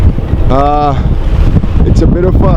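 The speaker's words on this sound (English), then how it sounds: "windy day, a bit of a stormy day" Strong wind buffets a sailboat motoring out of Calais port on a stormy day, a steady loud roar of wind noise on the microphone throughout while a person talks over it.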